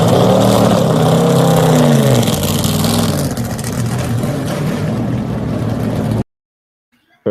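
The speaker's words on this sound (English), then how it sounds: "here's what the new car sounds like" A new race car's engine roars loudly and close, revving with rising and falling pitch before easing to a steadier drone, then cutting off into silence.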